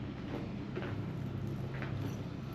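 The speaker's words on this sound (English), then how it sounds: "Yeah, there's a tractor driving by out there. Dang old John Deere." A John Deere tractor drives by outdoors while mowing roadside ditches, a steady low engine rumble heard from a distance, even in level and without pauses.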